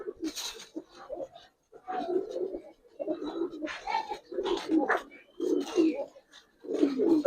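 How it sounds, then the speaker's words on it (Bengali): An Afsan grizzle hen pigeon coos in short, throaty bursts separated by brief silences, close and fairly clear against a quiet background. "এটা একটা মাদি কবুতর, সিঙ্গেল মাদি, আফসান গ্রিজেল মাদি"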